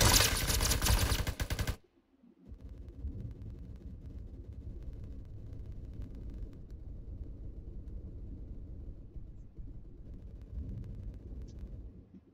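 Beowulf ECR rifle in the Roblox shooter Phantom Forces opens with a loud, dense burst, then continues as a steady stream of rumbling gunfire and battle noise for the rest of the stretch, with no talking.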